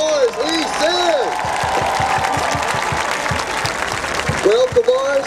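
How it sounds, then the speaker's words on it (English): A graduation audience applauds steadily, dense clapping filling the hall while a voice speaks over it at the start and again near the end. "How about one more round of applause"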